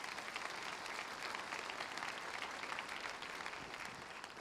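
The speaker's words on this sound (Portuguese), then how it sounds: "Vamos aplaudir a palavra do Senhor," A church congregation applauds, a continuous wash of clapping heard at a distance and fairly quiet, with no voices over it.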